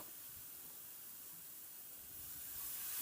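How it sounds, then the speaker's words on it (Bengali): Water poured into a pan of salted spices frying with tomatoes, for a ridge gourd and prawn curry, gives a steady broadband hiss and sizzle that holds throughout and swells slightly toward the end, with no talking. "এরপর আমি এখানে একটু জল অ্যাড করে দেবো"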